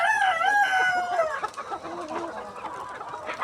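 A rooster crows loudly and close on a poultry farm of about 1,400 birds, one long call trailing off, followed by a busy chorus of hens clucking and squawking nearby.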